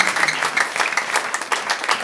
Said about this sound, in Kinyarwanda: Ukoma amashyi tubashimire Imana.